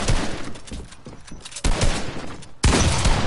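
Rapid bursts of gunfire from a 1v1 video game match, with dense volleys that cut in sharply around the middle and again near the end, loud and close throughout.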